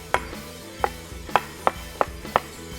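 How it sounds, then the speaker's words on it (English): A knife roughly chops an onion on a board: six sharp, evenly spaced chops, close and clear with no talking. "Then we are going to chop an onion, roughly chopped."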